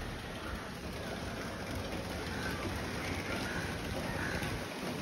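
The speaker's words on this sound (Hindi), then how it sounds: "मैं यहीं बारिश के मज़े ले रहा था" Steady rain falls outdoors in a continuous, even broadband wash, close and moderately loud with no voices over it.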